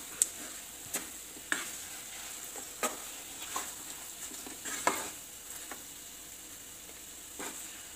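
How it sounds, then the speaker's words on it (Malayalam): A jackfruit cutlet mixture is stirred in a pan on the stove, with soft, intermittent scraping clicks of the spoon over a faint, steady sizzle. "ഇത് നന്നായിട്ട് ഇളക്കി യോജിപ്പിക്കുക"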